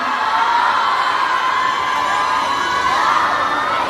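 A crowd at a cafe event in central Bangkok cheers and shouts loudly and continuously, many high voices merging into a sustained roar with whoops rising through it.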